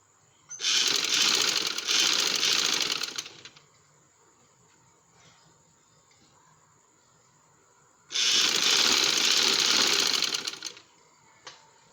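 A sewing machine runs two loud, steady bursts of stitching along the edge of a trouser, each lasting a few seconds, separated by a quiet pause with faint handling sounds.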